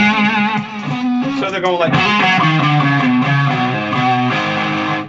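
An electric guitar played through stacked distortion pedals on a clean amp channel gives a gritty, sustained riff of held chords and bends, loud, with someone talking over it.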